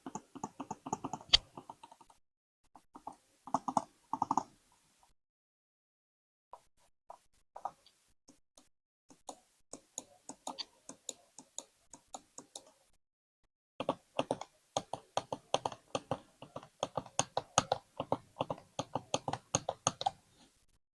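A YUNZII C2 silent mouse has its buttons pressed over and over, giving soft, muffled little clicks in irregular clusters and short runs with brief gaps, quiet and close, no talking.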